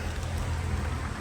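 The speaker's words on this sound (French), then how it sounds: "Là, je bosse sous la pluie." Steady rain falls outdoors during a motorcycle repair on a KTM RC8 R, a dense, continuous patter on surfaces with no voices.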